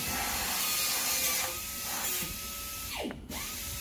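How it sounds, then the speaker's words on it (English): Bondo body filler being mixed makes a brief, close scraping and rubbing sound, with a sharper swipe near the end and no talk. "go ahead and mix the Bondo"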